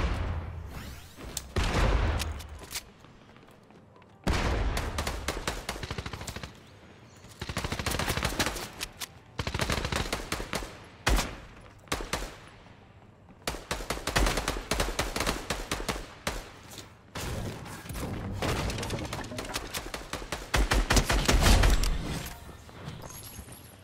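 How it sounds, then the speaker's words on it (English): Gunfire from a machine pistol or SMG in the Fortnite video game comes in loud bursts of rapid automatic shots. The bursts are separated by short gaps, with some footsteps and shuffling in between, and go on steadily throughout. "I got a machine pistol or SMG."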